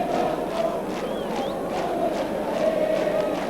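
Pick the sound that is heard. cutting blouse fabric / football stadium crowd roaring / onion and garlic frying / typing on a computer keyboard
football stadium crowd roaring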